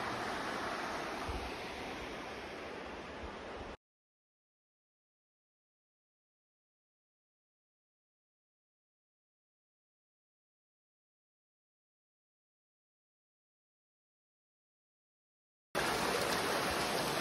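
Waterfalls on Pequea Creek near Pequea, Pennsylvania, give a steady, broad rushing roar for about four seconds, then the sound cuts to a long silence before the same close, even rush returns at the end.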